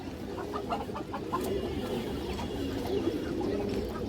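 Pigeons coo and murmur in a continuous low chorus at close range, with a few sharper calls rising briefly above the flock.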